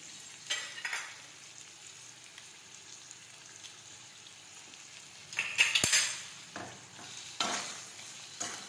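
Spiny gourd (kantola) curry being sautéed and stirred in a pan, soft sizzling with intermittent scrapes and clinks of a spoon against the pan, one sharper metallic knock midway.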